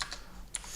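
Keystrokes on a computer keyboard, a few quick taps spread across less than a second, close and fairly quiet with no talking.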